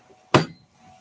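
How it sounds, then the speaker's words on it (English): A sharp chisel bites into hard, abrasive timber in one brief crisp strike, loud and close, with quiet before and after. "Let's go to a nice sharp chisel."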